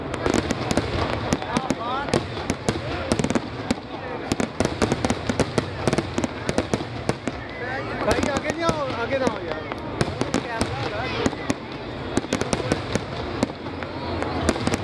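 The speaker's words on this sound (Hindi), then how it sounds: "तो आइए ये आतिशबाजी का मुजाहरा देखते हैं" Fireworks display at the National Industrial Exhibition 2022: a dense, continuous barrage of sharp bangs and crackling bursts, loud and close, with a crowd murmuring underneath.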